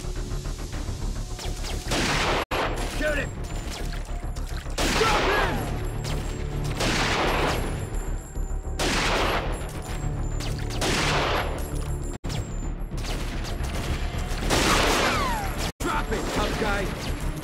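Loud, dense gunfire from the action game Dead to Rights fills the scene, with repeated heavy bursts and booming shots rolling one after another, punctuated by brief sharp dropouts.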